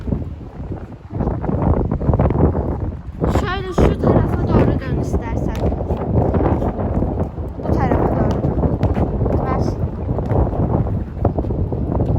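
Strong wind buffets the microphone with a constant roar during a garden football game, while people talk and laugh over it.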